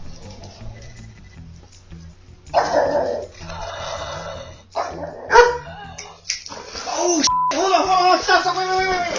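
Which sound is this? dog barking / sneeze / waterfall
dog barking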